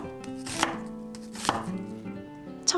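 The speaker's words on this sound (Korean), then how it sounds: "양파 반 개 채 썰어주세요." Half an onion sliced thinly with a knife on a cutting board, giving three distinct chopping thuds spaced about a second apart, close and fairly loud with no voices.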